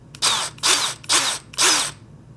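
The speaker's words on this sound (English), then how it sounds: "next up is the cordless drill" A cordless drill whirs in four short bursts, each lasting about a third of a second with brief pauses between, close and loud.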